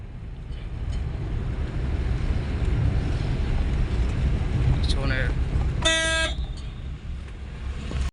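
Steady road rumble from inside a four-wheeled car travelling along a road, with a continuous low engine and tyre drone, a brief horn toot partway through and talk running over it.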